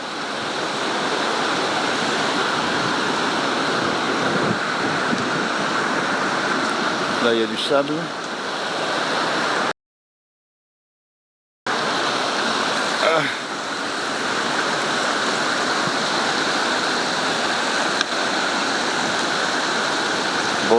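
A river flowing near the Bout du Monde waterfall gives a steady, loud broadband rush of water throughout, with a brief dropout partway through and a voice speaking briefly over it.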